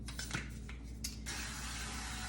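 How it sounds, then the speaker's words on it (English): A short hiss of avocado oil cooking spray onto a Scanpan pan, first in quick bursts and then a steady continuous spray, close and fairly quiet. "I am going to use this avocado oil spray"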